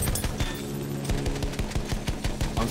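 Steady machine gun fire from a gunner on the Sinai Desert map of a Battlefield-style game, a fast regular stream of thudding shots, moderately loud and continuous.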